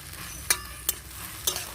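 Helencha greens and mourola fish being stirred together in a frying pan: three sharp spatula knocks against the pan over a soft, steady background sizzle.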